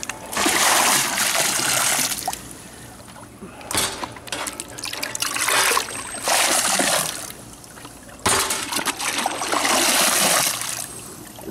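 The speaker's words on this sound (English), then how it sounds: "if there's any residual left in the bucket, just kind of rinse it and just dump it out in the pool." Water sloshes and splashes as a bucket is rinsed and emptied into a green backyard swimming pool, arriving in several loud bursts of pouring and splattering with short trickling pauses between them.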